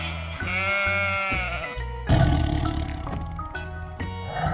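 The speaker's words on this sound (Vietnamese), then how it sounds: "Con báo." A leopard gives a rough, rasping roar that bursts in midway, following a sustained bleat-like tonal call; both are loud and close with no talking.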